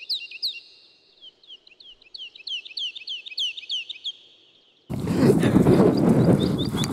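A bird chirps in quick, repeated high tweets in a quiet outdoor setting, then a louder burst of broadband noise takes over while faint chirps continue.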